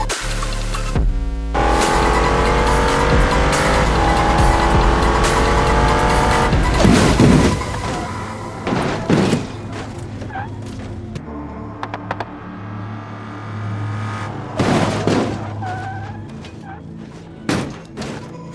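BMW crash in BeamNG Drive, an engine revving and droning with tire squeal, then a sudden loud impact followed by scattered thuds, clatter and debris noises as the wreck settles, loud and close.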